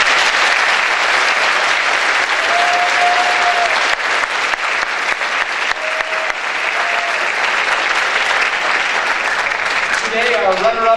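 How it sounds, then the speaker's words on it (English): A high school audience applauds steadily, a dense, sustained clapping that fills the room throughout, with a few faint voices underneath. "So please join me in giving them one more round of applause."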